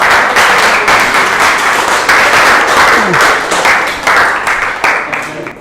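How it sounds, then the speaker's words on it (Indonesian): A classroom of students applauds after a presentation in a maths lesson on arithmetic sequences. The clapping is loud and sustained, with faint voices underneath. "Ya, aplaus yang meriah."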